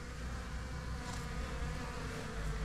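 A calm swarm of African honey bees clustered under a cupboard gives off a dense, steady buzzing drone, close and continuous, with no voices.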